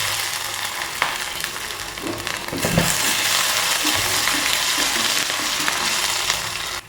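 Crushed garlic and ginger frying in hot oil in a pan for a curd curry: a steady, dense sizzle with a brief surge of crackling midway, close and fairly loud, with no voices.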